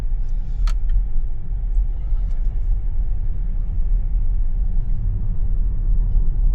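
A Tesla Model Y drives along with a low, steady road rumble and tire hum inside the cabin, continuous and fairly loud, with only faint high clicks near the start.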